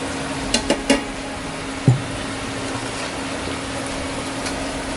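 Water boiling in a pot for spaghetti, with sea salt added, a steady bubbling hiss, with a few light clinks near the start.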